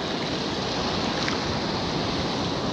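Ocean surf on an Oregon beach rushes and hisses in a steady, loud wash of broadband noise with no voices, the water churning continuously throughout.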